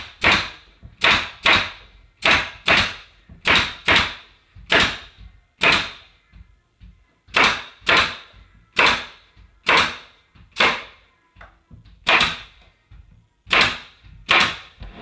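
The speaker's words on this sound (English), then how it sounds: "On the top, I do 2 staples." A staple gun firing staples into a wooden picture frame, giving a rapid series of sharp, loud, close snaps, mostly in quick pairs and small clusters, with no talking.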